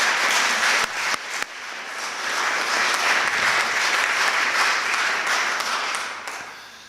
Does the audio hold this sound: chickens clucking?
no